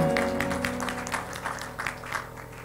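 A church congregation claps together in a sustained round of applause, dense and steady at moderate loudness, with organ or keyboard tones held underneath and no voices standing out.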